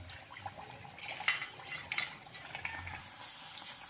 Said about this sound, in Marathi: तर एक एक पुरी आपण छान फ्राय करून घेणार आहोत।